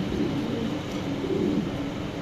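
Baby pigeons at a pigeon farm coo softly, low murmuring calls half-buried in a constant wash of background noise, with no talking.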